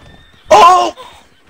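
A single loud, close horse whinny in the video game Red Dead Redemption 2 Online, a sharp shrill cry lasting about half a second, followed by a faint trailing sound over quiet background.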